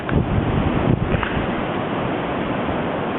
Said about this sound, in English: That snow blowing off the roof.